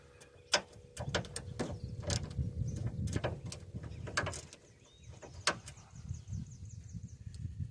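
Ratchet wrench loosening a bolt on a first-generation Dodge Neon during AC system replacement, a series of quick metallic clicks in irregular bursts over a low mechanical rumble, fairly close but quiet.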